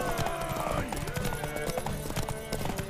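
Horse hooves clip-clop in a steady rhythm in the video game The Witcher 3: Wild Hunt, close and clear, with voices talking over them.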